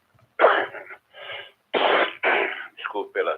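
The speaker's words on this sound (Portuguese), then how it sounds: "Desculpe pela tosse." A man coughs repeatedly during a ham radio net broadcast, a string of harsh, close bursts separated by brief silences, heard through a radio channel.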